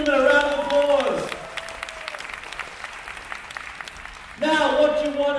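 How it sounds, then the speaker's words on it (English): Applause from an audience at a product launch presentation in Singapore rises and fades between stretches of someone speaking at the start and end. "Let's give Dr. Nathan Newman a round of applause."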